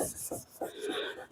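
A car headlight lens is sanded by hand during restoration, giving repeated close, gritty rasping strokes in a steady back-and-forth rhythm, with no voices.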